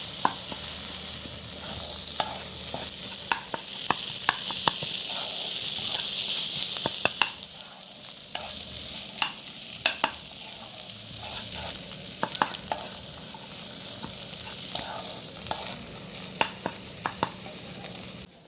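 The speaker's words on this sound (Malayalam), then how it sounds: "നന്നായിട്ടൊന്ന് മിക്സ് ചെയ്ത് കൊടുക്കാം കേട്ടോ." A spoon stirs fried eggs through a curry in a pan: repeated scraping clicks over steady sizzling, close and moderately loud, with the frying briefly louder before settling into lighter stirring.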